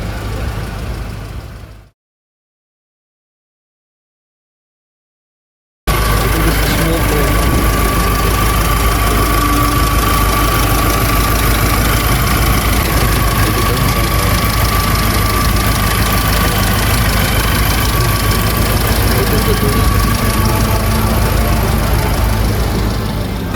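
A used car's engine idles loudly and steadily up close, a constant rough drone that starts abruptly after a few seconds of silence and runs unchanged to the end.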